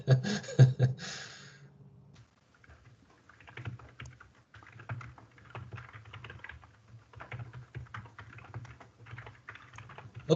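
Fingers type on a computer keyboard in an irregular patter of close, quiet key clicks with short pauses, preceded by a couple of louder knocks and no speech.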